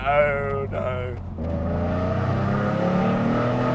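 An Alfa Romeo GTV or Fiat Coupé engine revs up sharply then settles into a steady, throaty drone, loud and close.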